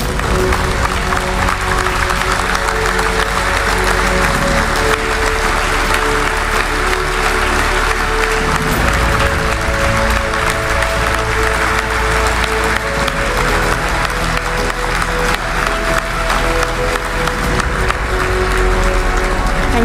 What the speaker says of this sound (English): give them, our defense forces, a thunderous, roaring applause